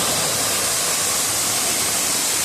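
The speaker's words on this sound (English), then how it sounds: "I do love a good waterfall." An artificial waterfall at Jungle Island in Miami pours with a steady, close rushing hiss of falling water that stays even throughout, with no other sounds standing out.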